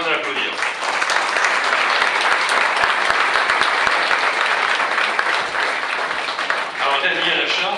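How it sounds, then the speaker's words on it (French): An audience applauds a man called up to a podium, a loud, dense, sustained wash of clapping from many hands that holds steady throughout, with a voice surfacing near the end. "Je vous demande de l'applaudir."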